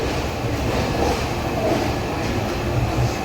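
A train rumbles steadily into Visakhapatnam station toward platform 3, a close, continuous low roar of wheels and carriages with no clear talk.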